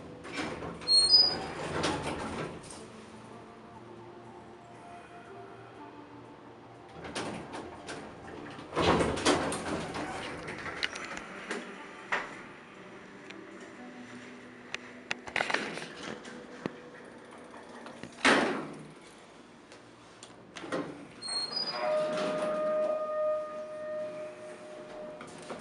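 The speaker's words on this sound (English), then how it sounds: "I've never seen doors take that long to open." Old Otis Series 1 elevator doors in a hotel slide open very slowly, giving several separate rumbling, scraping surges with short squeaks and quiet gaps between them.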